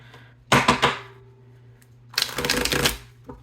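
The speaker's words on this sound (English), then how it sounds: "let's get one more good shuffle" A tarot card deck is riffle-shuffled twice, crisp rapid flutters up close with a short pause between them.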